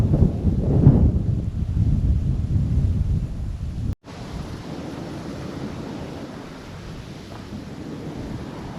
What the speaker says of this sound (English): The wind switched up. It's just howling over the freaking water over there.